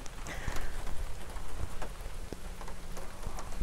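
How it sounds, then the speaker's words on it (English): Steady rain patters densely on a tent close by, a continuous hiss with scattered louder drops and no voices. "Now that it is raining"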